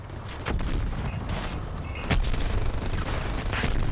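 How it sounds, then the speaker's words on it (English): Grenade and gunfire blasts in a competitive online shooter match between SICK6 and PKD, several sharp bursts over a steady rumbling battle din, loud and close. "Olba was looking for a spawn nade there"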